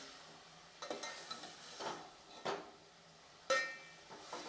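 Mutton being stir-fried in a pot for a spicy mutton curry, with a few scraping stirs and soft sizzling bursts, the loudest near the end, heard up close with no talk.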